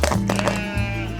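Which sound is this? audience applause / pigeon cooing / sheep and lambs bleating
sheep and lambs bleating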